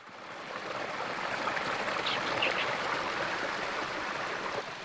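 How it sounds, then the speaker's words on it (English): Creek water on California's Lost Coast rushing steadily toward the ocean, a continuous broadband wash that holds an even level throughout, with no voices. "That causes these creeks to run down to the ocean from every little nook and cranny on the Lost Coast Trail."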